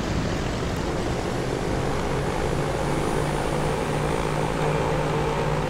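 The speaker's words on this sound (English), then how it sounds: "And we're starting our takeoff roll." Loud, steady roar of an airplane's engines during its takeoff roll on a runway in Transport Fever, a dense continuous drone with a low hum filling the whole stretch.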